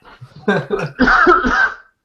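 A few short coughs and throat-clearing sounds, close by, followed by a longer choked, laughing cough burst.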